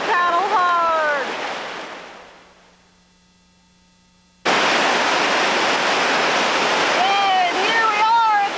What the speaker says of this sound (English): our first very large rapid of the day. It's a very long rapid with lots of big hydraulics and waves